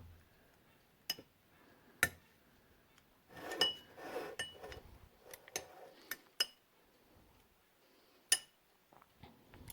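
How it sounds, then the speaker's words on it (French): A small spoon spreads lactose-free cream across the base of a tiramisu dish. Sparse, crisp clinks of metal on the dish and a few soft scraping strokes stand out against near silence. "je vais prendre une petite cuillère pour l'étaler"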